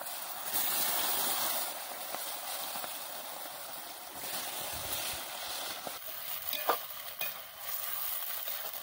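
Onion frying in oil in a pot for plov, a soft continuous sizzle with light stirring noises and a few small clinks, fairly quiet and steady throughout.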